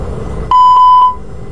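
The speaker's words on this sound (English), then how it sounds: "I'll perform a fire warning test before starting the APU." An aircraft fire warning test sounds before APU start: three short, clear, evenly spaced electronic beeps at one steady tone, close and loud over a low cabin hum.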